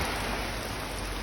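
Rain falling steadily as a dense, even hiss of drops on surfaces, close and unbroken throughout.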